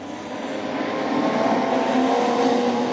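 Race cars roar steadily around a concrete-walled speedway oval at Maryborough Speedway during a feature final, a dense engine drone that swells a little louder as the pack draws nearer, with no voices.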